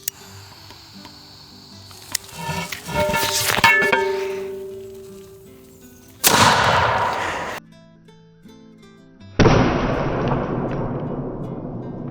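A shotgun fires nail shot at a gambeson from close range, with sudden loud blasts and abrupt noisy bursts separated by quieter stretches of handling clatter and lingering rumble.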